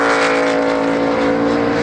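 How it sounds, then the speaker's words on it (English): A NASCAR Cup car, number 2, runs down pit road at Watkins Glen International, its engine a loud, steady, close roar with a strong buzzing tone across the brief moment. "this might be the 2 car coming down pit road right now to get some fuel"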